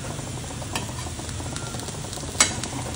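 Pieces of drumstick (shevga) fry in a pan over a low flame, giving a soft, steady sizzle broken by a few sharp clicks and scrapes of turning.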